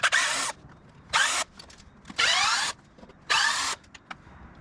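A power drill removing screws from a 1950 BSA B33 motorcycle whirs in four short bursts separated by brief pauses, close and loud, with small clicks and handling noises between.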